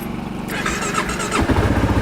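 A Kawasaki KLR 650 motorcycle is cranked on a stormy day in a state park, with a whirring starter, a few sputters, then the engine catching into a rough, close, loud idle.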